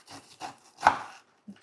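A knife cuts down through a pineapple in a few short scraping, crunching strokes, with one louder central cut, close and clear with no talking.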